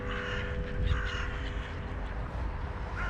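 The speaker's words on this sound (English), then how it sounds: "So there's our seagulls." Harsh seagull calls ring out a few times over a steady background rumble, fairly close.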